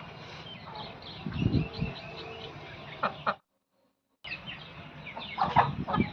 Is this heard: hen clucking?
yes